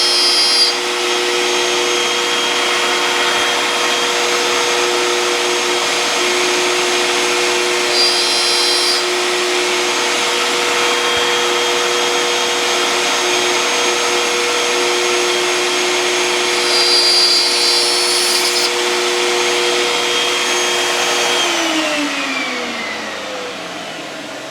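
Power tool running steadily while cutting wood on a dovetailed finger joint jig, a loud continuous high whine close by for most of the time, then spinning down and fading at the end.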